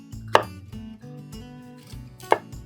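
A knife comes down on a cutting board while chicken is chopped for a recipe, giving two sharp, close knocks about two seconds apart over a quiet musical background.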